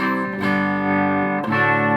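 Electric guitar played through a Boss OS-2 distortion pedal, sustained distorted chords ringing with a brief pick attack midway, loud and close with no talk.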